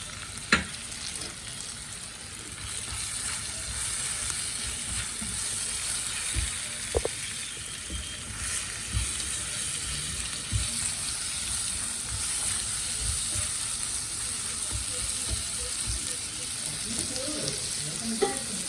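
Onions frying with turmeric in a pan for mutton liver fry, a continuous close sizzle with occasional scrapes and clicks of stirring, and no voices over it.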